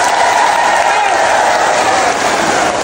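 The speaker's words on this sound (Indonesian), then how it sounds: "udah tepuk tangan duluan" An audience at a gathering of community health volunteers bursts into loud, dense applause, a continuous close wash of many clapping hands lasting the whole moment.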